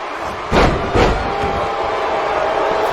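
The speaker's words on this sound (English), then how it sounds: "You can hear this crowd and just how they feel." A WWE 2K19 video game arena crowd roars as a steady wash of cheering, broken early by two heavy slams of wrestlers hitting the mat.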